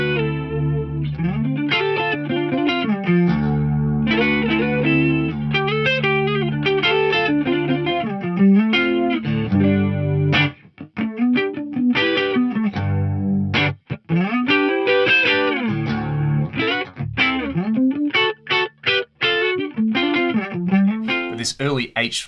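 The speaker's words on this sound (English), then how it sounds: "You can use it for Leslie tones like this Leslie Fades preset." Eventide Micropitch Delay pedal running its Leslie Fades preset, giving a rotary-speaker swirl to a continuous, loud melodic instrument line with chorus-like thickening and slight grit, playing alone throughout.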